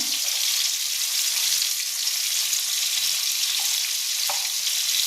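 Potatoes fry in a pan with turmeric and chili powder, giving a loud, constant close-up sizzle with faint stirring scrapes and no voices.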